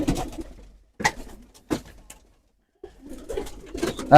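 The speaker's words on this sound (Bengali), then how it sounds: "দুই জোড়া কবুতর দুই জোড়া বাচ্চা" Pigeons in a loft with their young coo nearby in several short, soft phrases separated by brief pauses, with a little rustling between the calls.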